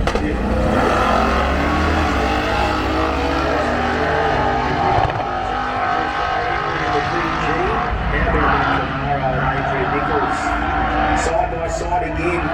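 Drag racing cars, including a Camaro running gas street, accelerate side by side down the strip, a loud continuous engine roar with revving throughout under crowd noise and talk.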